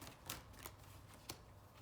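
Tarot cards are shuffled quietly close up, a soft riffling rustle with three crisp snaps of cards falling into place, faint and with no one speaking.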